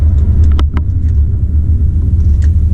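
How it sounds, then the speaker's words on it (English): A VW Audi car on a brake test drive after a brake fluid flush, braking hard, heard from inside as loud low road rumble with a few short knocks and thumps, no speech. "this time I'll hit the brakes even harder"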